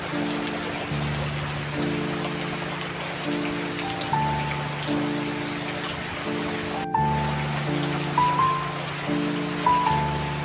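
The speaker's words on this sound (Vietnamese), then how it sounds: "còn ngoài trời mưa rất là lớn" Dense, steady downpour of heavy storm rain in central Vietnam hissing on surfaces, with soft melodic music playing underneath throughout.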